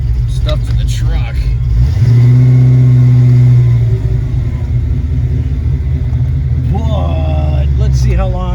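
A 1986 Ford Capri engine idles and revs while being parked, a loud close rumble with a rising rev in the middle, with someone talking over it.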